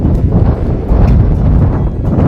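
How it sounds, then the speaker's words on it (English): Strong wind buffets the microphone outdoors at a honeyberry market garden, a loud, continuous low roar that never lets up. "it's getting pretty windy here"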